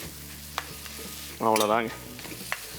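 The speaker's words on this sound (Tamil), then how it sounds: "அடியில் இருக்கிறதெல்லாம் ஒட்டி இருக்கிறதெல்லாம் சுரண்டி எடுத்து இதை நல்லா மிக்ஸ் பண்ணி விட்ருங்க" Bitter gourd masala scraped and stirred in a hot kadai, with a short burst of sizzling scraping in the middle amid soft clinks and quiet frying, and a brief spoken remark.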